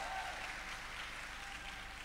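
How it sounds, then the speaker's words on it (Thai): Audience at a talk event claps together in a steady, dense wash of applause, fairly distant and quiet, with no speech over it. "ขอเสียงปรบมือดังๆให้กับปิยบุตรแสงกนกกุล"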